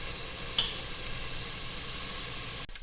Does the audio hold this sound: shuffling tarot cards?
no